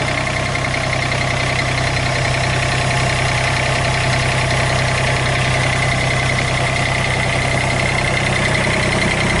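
A 2018 New Holland Workmaster 25S tractor idles with a steady, loud, close engine drone that holds constant throughout.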